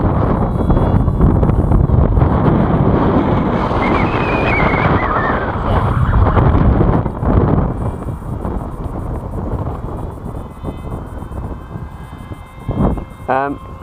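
Strong wind buffets an outdoor microphone while a model aircraft is flown in a gusty crosswind, a loud continuous rumble with a brief whining tone and someone talking over it.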